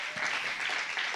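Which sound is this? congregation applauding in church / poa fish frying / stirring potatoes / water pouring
congregation applauding in church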